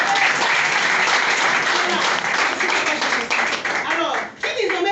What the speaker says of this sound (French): Acclamons encore.